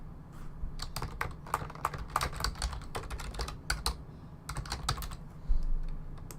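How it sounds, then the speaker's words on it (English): Rapid typing on a computer keyboard, picked up loudly by a nearby microphone; quick bursts of sharp clicking keystrokes with brief pauses between flurries. "I think the keyboard comes through quite loud on the microphone"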